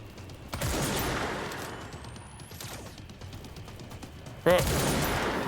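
Gunfire from the video game Control rings out in bursts: a loud volley at the start, then a fading tail and another sharp burst near the end, with game effects and a voice in the background.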